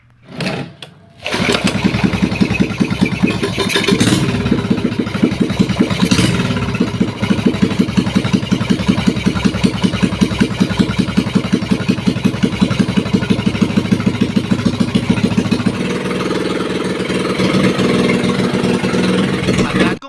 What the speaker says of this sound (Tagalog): Sinubukan ko na nga pala ditong paandarin itong makina ng bangka